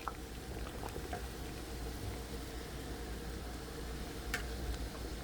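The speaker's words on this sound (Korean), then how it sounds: "잘 끓죠." Water steeped with lacquer tree wood bubbles at a steady boil in a pot being readied for duck, a soft continuous simmering patter with faint ticks and no talk.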